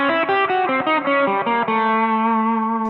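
Distorted electric guitar plays a fast diminished blues lick, a quick run of picked notes that settles on a long sustained final note, loud and close with no talking.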